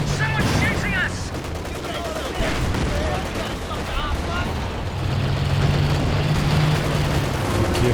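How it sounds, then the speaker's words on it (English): Gunfire and battle noise in the video game Company of Heroes 2, dense crackling shots and rumbling blasts layered together continuously, with voices heard over the combat. "Someone's shooting us!"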